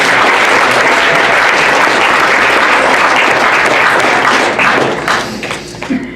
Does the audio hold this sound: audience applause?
yes